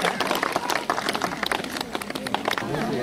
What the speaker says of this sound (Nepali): ताली बजाइदिनु होला कृपया।